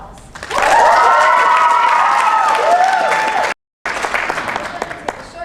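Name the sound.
audience round of applause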